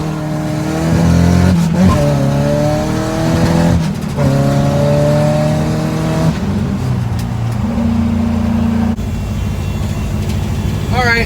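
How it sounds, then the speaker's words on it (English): A car on nitrous makes a wide-open-throttle pull, its engine note climbing in repeated rising sweeps with brief shift breaks, loud and close from inside the cabin, settling into a lower drone near the end. "Time to arm that nitrous. I'm gonna try a pull. It's supposed to come on wide open."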